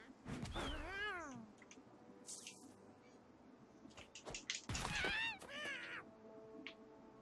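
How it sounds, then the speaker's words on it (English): Several cat meows from South Park The Fractured But Whole, drawn-out and wavering, some overlapping, heard close and fairly clear over a low ambient game backdrop. "Okay, so how am I supposed to get that cat?"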